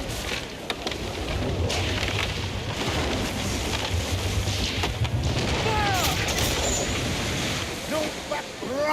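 Ship cannons fire in Assassin's Creed Black Flag as a sustained barrage of booms and crackling over a roaring storm-like wash, with crew voices shouting throughout.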